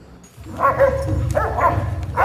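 Dogs playing and digging in a mud puddle outdoors, giving a few close, short barks and yips over a low rumbling background.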